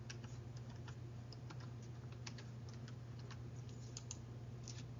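Someone types a value on a computer keyboard: a quiet, steady run of light key clicks over a constant low hum, with no talking.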